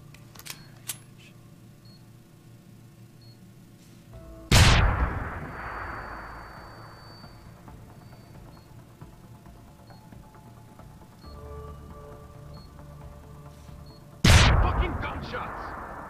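Two loud, sharp gunshots in the video game Deus Ex: Human Revolution, spaced about ten seconds apart, each ringing off into a decaying tail, over a quiet electronic background.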